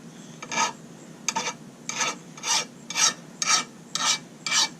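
A hand file rasps along the edge of a lawn mower blade, making about eight close, evenly spaced strokes with short pauses between them.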